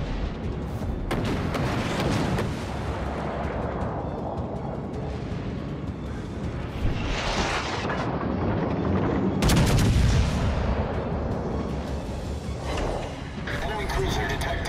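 Warship guns firing in World of Warships: Legends: repeated heavy cannon blasts and rolling booms over a steady battle rumble, with a sharp loud salvo near the end and game voices in the mix.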